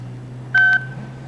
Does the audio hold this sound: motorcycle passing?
no